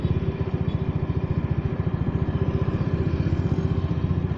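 A bored-up carbureted Honda Vario 110 scooter engine runs steadily, its loud, close putter pulsing in an even rapid rhythm throughout with no talk.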